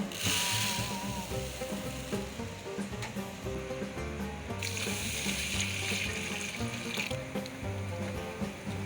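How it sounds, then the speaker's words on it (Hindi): Water swishing and sloshing as quinoa is rubbed in a bowl, with music playing steadily underneath throughout. "इस तरह से अच्छी तरह से इसे 1-2 मिनट मलकर इसके ऊपर से सारा गंदा पानी उतार देंगे"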